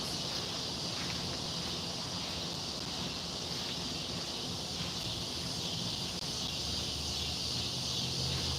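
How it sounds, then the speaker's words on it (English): Cicadas drone in a continuous, loud, high-pitched buzz on a hot day beside a CSX railroad diamond, the steady chorus unbroken throughout. "for those of you not familiar with that sound, those are cicadas"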